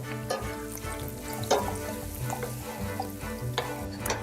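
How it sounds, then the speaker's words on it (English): Olive oil sizzles and crackles steadily in a hot pan, with occasional brighter pops and a low background hum, no voices. "Just heat it and wait for it to sizzle a little."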